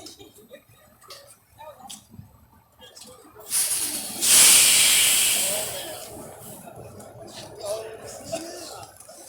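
Air brakes on a new King County Metro battery-electric articulated bus let out a loud burst of hiss midway that slowly fades, between stretches of quiet interior rumble with people talking.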